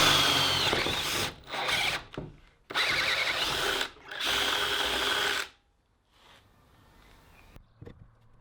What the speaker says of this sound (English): so I could drill one hole after the other repeatable and constant distances.